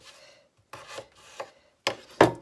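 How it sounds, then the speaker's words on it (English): Knife cutting potatoes into small chunks on a board, giving a few separate chopping strokes with short pauses between them, the last two louder and closer. "So I cut them in quarters. I'm going to make little tiny chunks."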